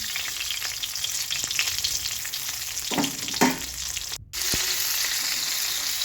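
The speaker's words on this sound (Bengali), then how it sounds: "এখানে মাছটা ভাজা হচ্ছে" Pabda fish frying in a pan gives a steady, close sizzle that runs the whole time, broken by a couple of soft knocks and one sudden brief dropout before the hiss comes back.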